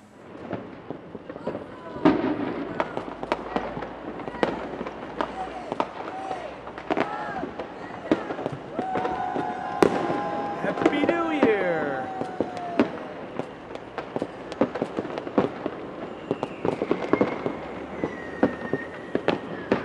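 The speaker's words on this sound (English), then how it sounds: "luckily Chibi isn't bothered at all by the fireworks" New Year's Eve fireworks burst and crackle repeatedly at varying distances, with sharp pops, rumbling booms and whistling rockets in irregular succession, while people talk and a crowd murmurs.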